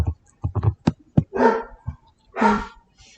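A dog barks repeatedly nearby, a quick burst of short sharp barks followed by two longer, louder drawn-out barks, heard alone without talk.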